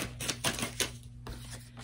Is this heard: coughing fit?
no